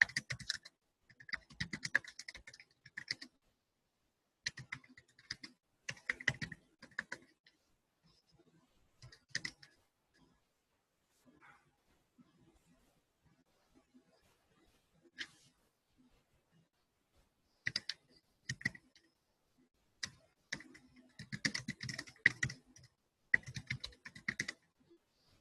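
Quiet, close clicking of a computer keyboard comes in irregular bursts of typing separated by pauses, with occasional faint single key taps.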